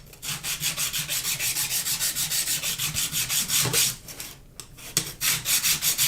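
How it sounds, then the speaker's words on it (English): A sharpening stone rubbed back and forth over a metal 3D-printer part to take off burrs, giving a steady run of rhythmic rasping strokes, close and fairly quiet, with a brief pause partway through. "You just run a stone over it"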